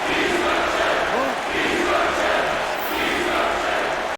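Arena crowd in the UFC Undisputed 3 video game chanting a fighter's nickname, "Destruction", a steady broad roar of many voices sustained throughout with rhythmic swells.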